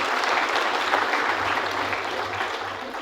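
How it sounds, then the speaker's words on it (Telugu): A large audience at a spiritual talk claps in a continuous, dense wash of applause, steady and fairly loud throughout, with no clear individual claps standing out. "చాలా నీరసంగా కొడుతున్నారండి చప్పట్లు ఇవ్వండి"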